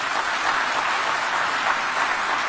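An audience applauds Ireland's President Michael Higgins at a formal gathering. A dense, steady wash of clapping fills the hall at an even level.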